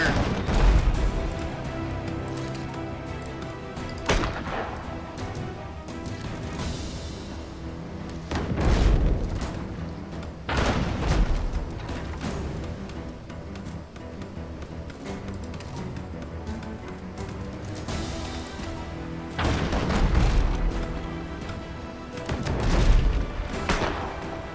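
Mortar fire in the naval game Abandon Ship, several heavy booms spaced a few seconds apart over a continuous backdrop of game music and ambience.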